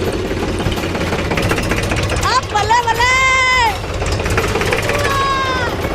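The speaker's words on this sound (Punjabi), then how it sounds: "ਟਰੈਕਟਰ ਤਾਂ ਮੈਂ ਚਲਾਉਂਦੀ ਪਈ ਹਾਂ" A tractor being driven on a farm outing around Faridkot, Punjab, with its engine giving a loud, steady rumble and clatter throughout, while voices and cheerful singing or shouting carry over it.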